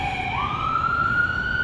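An ambulance siren sweeps upward as it passes, a loud steady electronic wail rising in pitch over low traffic rumble, with no talking.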